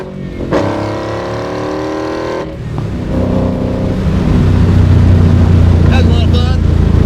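A 1965 Backdraft Racing Cobra's engine idles, then drops and rises into a deep, loud acceleration roar that holds steady, with people talking over it inside the car.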